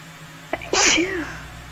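A single loud, close sneeze bursts out after a brief intake of breath, then trails off into faint background noise.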